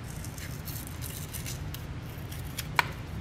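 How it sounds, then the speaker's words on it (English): Scissors cutting a piece off a wood-mount rubber stamp indoors, a soft snipping faint over steady room hiss, ending in a single sharper click. "let's cut this off here"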